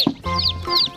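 Rainbow-coloured chickens cluck up close in short repeated calls, with a rooster-like bird mixed in and a soft background hum.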